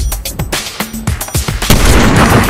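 Gunfire in a Fortnite Chapter 5 Season 2 match, a string of sharp separate shots and booms, then a louder denser volley near the end.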